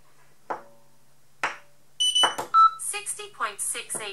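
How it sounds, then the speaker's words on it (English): A NOVOTEST T-UD2 portable hardness tester, calibrated for steel on the HRC scale, gives two short beeps about a second apart, followed by a synthetic voice announcing readings alongside further beep tones. "Notifications are by voice and beep."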